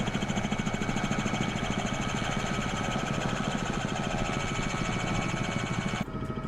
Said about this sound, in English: I get some of the blade whooshing through the air sounds in here